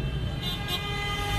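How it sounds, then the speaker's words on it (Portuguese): Car and truck horns blare together in a continuous honking din at a street protest by truckers and motorists over fuel prices, sustained and loud with traffic noise underneath. "aí está o buzinaço"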